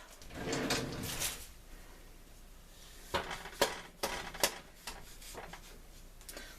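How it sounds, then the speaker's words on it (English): A knife breaks through the flaky pastry crust of a vegetarian pot pie, giving a quiet run of crisp crackles and small taps against the dish, with soft background rustle between them. "let's cut into this pie here"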